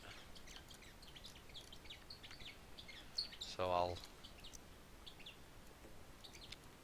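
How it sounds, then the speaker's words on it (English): A pet bird chirps indoors with faint, scattered tweets through the room, a brief louder call standing out midway, while a person speaks quietly nearby. "Now the bird is probably demanding to be let back out."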